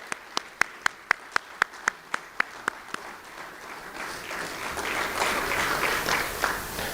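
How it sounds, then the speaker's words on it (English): At a U.S. Army ROTC commissioning ceremony, crisp single claps come at a steady beat at first, then the whole crowd joins in and builds into full, sustained applause. "Please join me in a round of applause."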